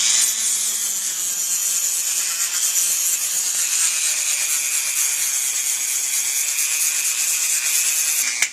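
Dremel rotary tool polishing a homemade alcohol stove, a steady high-pitched whirring grind that runs continuously and fairly loud throughout, with no talking.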